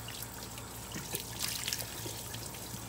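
Water runs steadily and trickles over as a water balloon filler keeps overflowing, a continuous nearby wash of flowing liquid with a low hum beneath it.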